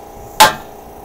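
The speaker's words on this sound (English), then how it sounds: "take you a nice little hammer and hit it right here, and it should come free" Single sharp metallic hammer strike on the ball joint of a Dodge Ram 1500 during suspension work, a brief loud clank that rings out quickly in a quiet space.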